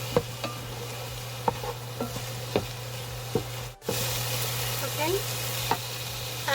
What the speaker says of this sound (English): And I'm going to toast it along with it.